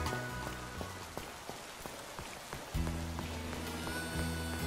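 Steady rainfall in Pokémon Scarlet/Violet, pattering on surfaces with scattered distinct drop hits over a constant hiss, with a soft musical drone joining partway through.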